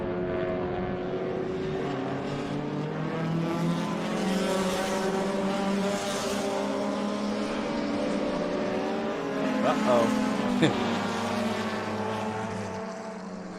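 B Sedan race cars, among them a Mini and a 1971 Datsun 510, race at Laguna Seca. Several engines drone in layered harmonic tones at steady loudness, with a sharper pass near the end.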